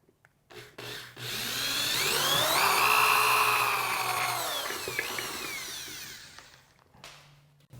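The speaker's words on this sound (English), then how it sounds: "I'm gonna be using the step drill bit again" A power drill spins a step drill bit through a pilot hole, starting with a few short bursts, then running a long, loud whining cut whose pitch rises and falls before it winds down to stop.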